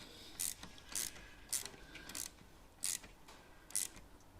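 A hose clamp on a Harley oil line is tightened with a ratcheting tool in six short, crisp clicking bursts about half a second apart. They are close and fairly quiet, with no talking.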